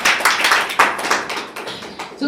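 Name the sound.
audience applause for a participant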